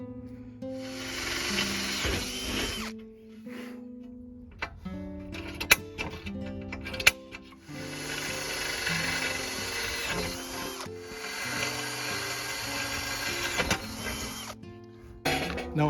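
A new power drill bores into a diamond plate countertop, giving a loud, strained grinding whir that runs in long bursts with brief pauses and scraping clatter, alone without speech.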